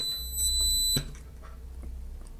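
A small buzzer driven by an STM32 microcontroller emits a steady high 4 kHz PWM tone that runs on continuously, with a sharp click partway through and a low hum underneath.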